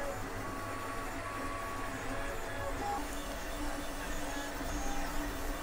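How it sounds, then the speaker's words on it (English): A 3D printer running a long print job on robot body frame parts gives a steady low mechanical hum with faint stepper-motor whines and tones, continuous and close. "Print's been running for 6 hours 26 so far, so I think it's going to be a 7 hour print."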